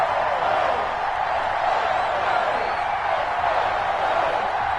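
Stadium crowd noise from an EA Sports NFL video game, Buccaneers versus Giants, a steady dense roar of many voices held at an even level throughout with no distinct cheers.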